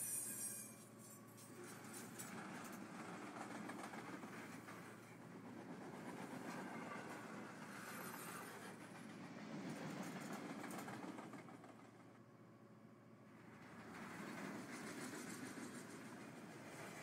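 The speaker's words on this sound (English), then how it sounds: "this time we actually might watch the whole train pass by" A long freight train passes by in Train Simulator 2021, a steady, moderately loud rumble and wheel noise that swells and eases over the full length with no talking.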